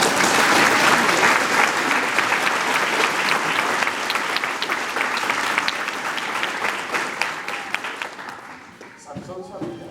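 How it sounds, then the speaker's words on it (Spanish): A church audience gives loud, sustained applause that gradually fades and trails off at the end. "den un aplauso bien fuerte al Señor"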